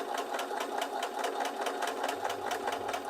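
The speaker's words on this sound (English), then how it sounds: "I'm sewing all my little triangles into pairs now." A sewing machine stitches fabric triangles together into pairs, a steady fast mechanical whir with rapid rhythmic needle ticks running continuously and close by, with no voices over it.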